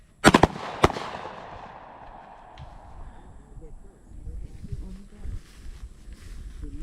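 Pistol shots at an outdoor shooting range, a few sharp loud cracks in quick succession at the start with a ringing decay, followed by low quiet background.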